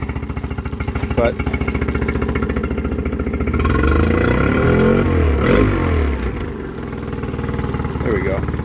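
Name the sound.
aluminum boat engine running and revving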